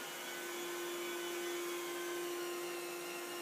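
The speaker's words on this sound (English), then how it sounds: "The rotor vacuum." Rotary carpet cleaning vacuum machine running at a constant pitch, a steady drone with a sustained hum, heard alone and fairly quiet throughout.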